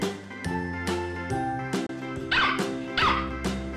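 Dog barking sound effect in a children's phonics song, two quick yappy barks popping out over the rhythmic musical backing with jingly accompaniment.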